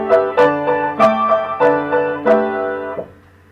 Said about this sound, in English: here's the first theme of the second movement that is the harmonic tetrachord